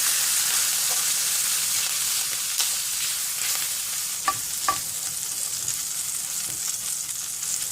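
Gram flour (besan) stirred into a frying chicken and potato mixture, a steady close sizzle with scattered scraping stirs and a couple of sharper spoon clicks midway.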